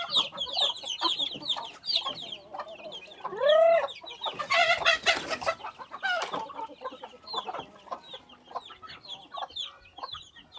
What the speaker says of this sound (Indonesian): Ada 3 kelompok ayam ini.